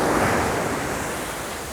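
Ocean waves wash steadily onto the shore as a dense, continuous roar with wind noise, loud and close, with no voices.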